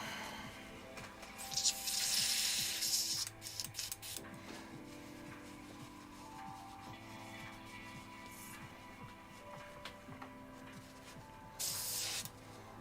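An airbrush hisses in short bursts while paint is sprayed onto Warhammer 40k miniatures, faint and close, with quiet gaps and scattered handling noises between the sprays.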